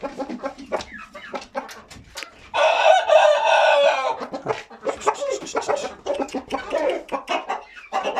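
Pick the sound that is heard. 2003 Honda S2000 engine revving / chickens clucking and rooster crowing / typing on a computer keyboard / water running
chickens clucking and rooster crowing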